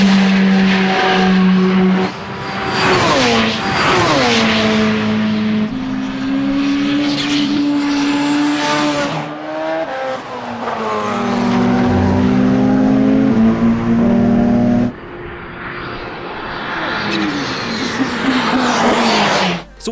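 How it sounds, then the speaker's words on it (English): Porsche 919 Evo LMP1 race car at full pace on track, a loud, continuous engine howl with rising pitch sweeps through gear changes, close and dominant, with one sharp cut in the tone. "allow you to enjoy listening and seeing the 919 Evo tribute at its scintillating best"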